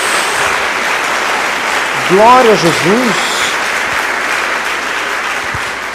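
A church congregation claps during worship, a steady wash of applause beneath a preacher's voice, which rises briefly with an exclamation in the middle.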